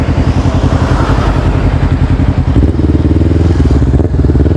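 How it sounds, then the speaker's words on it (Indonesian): Close by, a motorcycle sits idling through an aftermarket exhaust, a loud, steady, deep and rounded throb that shifts to a slightly heavier pulse midway. "Mungkin teman-teman pengen denger suara knalpotnya ini yo"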